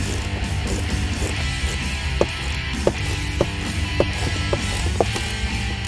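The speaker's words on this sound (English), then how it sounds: "Now we can reinstall the hardware on the side panel." Side panel hardware is being reinstalled on a 2015-2017 Ford Mustang console, with a series of sharp clicks and ratcheting snaps at irregular intervals over a steady background hum.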